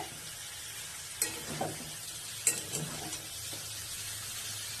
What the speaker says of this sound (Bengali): টমেটোগুলো এর মধ্যে দিয়ে আমি ভালো করে নাড়াচাড়া করে দিচ্ছি